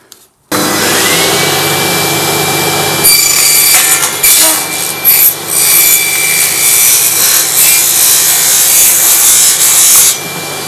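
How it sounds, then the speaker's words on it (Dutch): A table saw whines steadily, then bites into wood with a loud, harsh cutting roar that rises and dips for several seconds before easing off. "dan toch maar de zaagtafel even"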